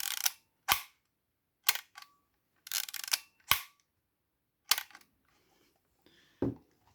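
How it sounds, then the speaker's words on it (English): A Rollei 35 film camera snaps its shutter repeatedly, with crisp, close, isolated clicks spaced irregularly, some in quick pairs, and a little handling noise in between. "the sound of the shutter"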